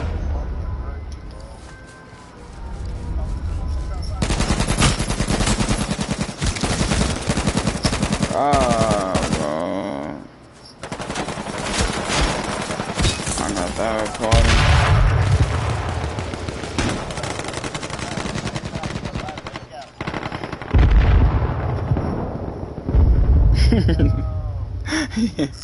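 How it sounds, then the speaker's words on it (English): Rapid gunfire in the video game H1Z1, bursts of automatic shots and loud cracks running almost continuously, with a player shouting and groaning over the shooting. "Stop shooting, stop shooting, stop shooting,"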